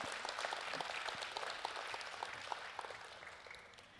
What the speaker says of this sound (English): Well, give him a hand clap.